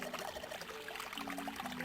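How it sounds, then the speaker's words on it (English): Faucet water running in the game 999: Nine Hours, Nine Persons, Nine Doors, a faint steady pouring hiss with low tones from the game's music beneath. "Pretty obvious, isn't it? I'm running the water."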